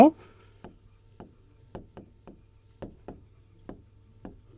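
Chalk or marker writing on a board, with short scratchy strokes tapping out in an irregular rhythm, close and fairly quiet over a steady low room hum.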